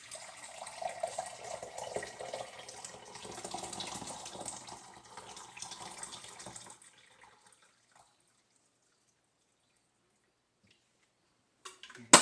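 Tap water runs steadily into a container for about seven seconds while a crystal trinket bowl is being made with borax, then stops, leaving quiet and a few small clinks at the end.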